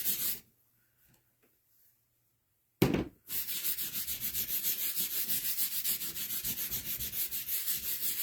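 Surface wax is rubbed onto a wooden carving with steady back-and-forth strokes, close and fairly quiet. A sharp scrape comes before it, with near silence earlier.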